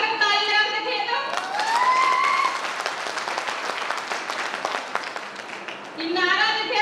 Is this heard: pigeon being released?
no